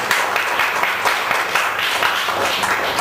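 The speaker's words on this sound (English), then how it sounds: "I think he deserves a louder round of applause" An audience applauds after a traditional music performance, steady, close clapping from a crowd with scattered sharper individual claps throughout.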